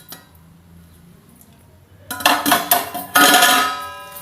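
A metal cooking pot of browntop millet tomato rice is set aside and its lid lifted, giving a few sharp, close clinks and clanks of metal in the second half after a quiet start.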